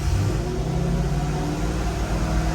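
A 2008 Corvette engine idles steadily after start-up, just resealed at the intake and still being tuned, a loud, close, even low rumble that holds without a break over a short stretch, with no talking.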